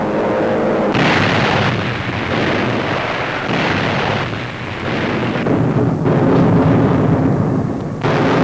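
Wartime aerial bombing explosions from an archival newsreel, a continuous loud series of heavy booms and rumbling blasts, one after another with brief dips between.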